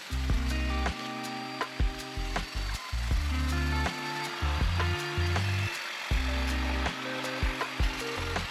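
A chainsaw cuts through wood while clearing a trail, its engine tone repeatedly dropping and surging as the chain bogs in the cut, with sharp intermittent knocks and snaps, loud and close with no talking.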